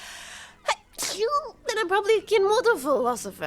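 A single sharp sneeze bursts out near the start, close and loud, followed by someone talking at length in a calm conversational voice.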